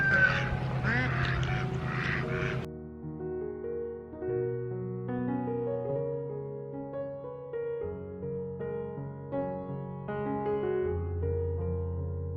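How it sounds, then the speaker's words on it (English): Ducks near a nest give a burst of close, loud honking quacks at a tree-planting site, followed by soft layered musical tones. "the ducks are still deciding who's going to sit on the nest"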